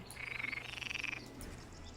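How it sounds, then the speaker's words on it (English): A single frog gives a quick rattling croak, then a second trilled call, faint and close against a soft background hiss. "Frogs scramble up out of the river and into the countryside, where they die in droves."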